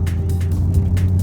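A Porsche Cayman GTS or Boxster GTS idles in normal exhaust mode, a low steady throbbing hum with a slight rhythmic gurgle, close and fairly loud, with no talking.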